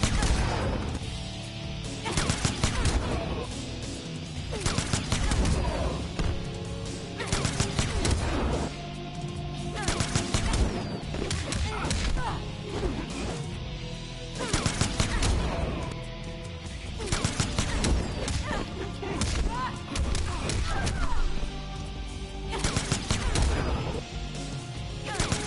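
Jacqui's enhanced shooting in a fighting video game, with rockets: a loud, dense barrage of gunfire bursts, blasts and impacts in repeated waves, with game music or effects underneath and no clear talk.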